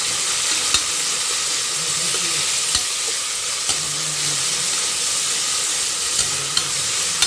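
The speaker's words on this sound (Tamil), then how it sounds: "இப்போ வெங்காயத்தை நல்லா வதக்கி விட்டுக்கலாம் இந்த வெங்காயத்தை நல்லா வதக்கிக்கிறோம்" Onions sauté in a hot pan for shrimp pasta biryani, giving a loud, continuous close sizzle with faint scraping stirs and occasional light taps of a utensil.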